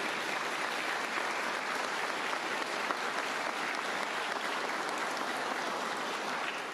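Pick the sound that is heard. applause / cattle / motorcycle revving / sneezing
applause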